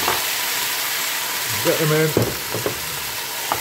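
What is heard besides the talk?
vegetables sizzling in a hot pan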